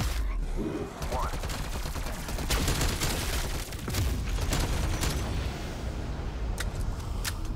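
A sustained firing barrage in Black Ops Cold War Zombies, a dense roar of rapid gunfire and booming impacts lasting several seconds, loud and up close, with a faint game voice in the mix.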